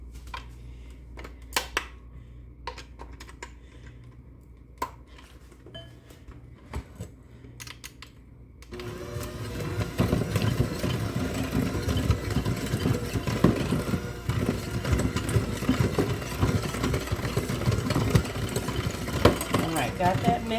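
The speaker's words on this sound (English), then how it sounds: "what I'm going to do first is mix up the egg and brown sugar together" After a few scattered clicks and taps, an electric hand mixer switches on and whirs steadily, beating egg and brown sugar together for banana bread muffins in a home kitchen.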